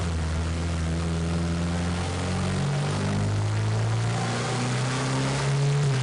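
A turbocharged car engine running through the gears on a boost-tuning run, a steady loud drone whose low tones climb in pitch, dip at a shift and climb again with no voices.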